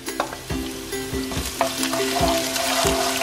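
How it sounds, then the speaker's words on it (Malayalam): Ginger, garlic and green chili crackle in hot oil, a dense close sizzle with a rhythmic series of spatula scrapes and stirs against the pan throughout. "എണ്ണ ചൂടായി കഴിയുമ്പോൾ നമ്മൾ ഓരോന്നോരോന്നായിട്ട് ആഡ് ചെയ്യുക. ഇഞ്ചി, വെളുത്തുള്ളി,"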